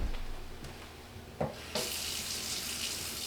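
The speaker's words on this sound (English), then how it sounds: "And then we're gonna top this off with water." Tap water runs into an egg and vinegar mixture in a bowl, starting as a soft trickle and then rising into a steady, close rush of pouring water that continues to the end.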